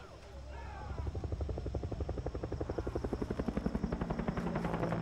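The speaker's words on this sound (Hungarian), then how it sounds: "Jó kis helikopter, ugye razziázik a környékkel" A helicopter in the Far Cry 3 game hovers nearby, its rotor chopping in a steady rapid pulse that grows slightly louder over several seconds, fairly quiet overall with faint voices at the start.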